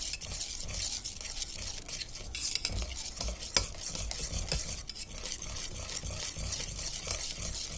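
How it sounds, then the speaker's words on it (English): Homemade eggnog egg mixture stirred continuously in a pot, giving a steady scraping, swishing texture with occasional light clinks of a utensil against the pan throughout. "So this is where we keep stirring."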